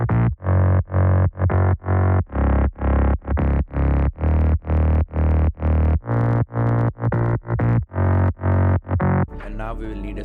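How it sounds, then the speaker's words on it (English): Synthesized mid bass treated with EQ and sidechain compression, pumping in a steady rhythm of loud, gritty sustained notes ducked between beats for about nine seconds, then a short trailing tail. "this is how our mid bass will sound like after processing"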